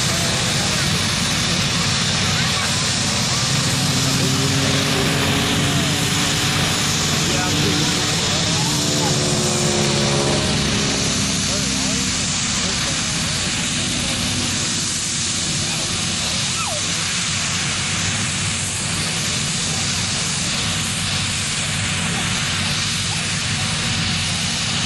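Aircraft in a flying display at the RAF Cosford Air Show, a continuous broad engine drone with a slowly shifting pitch heard through wind and crowd noise, while a commentator talks over it throughout.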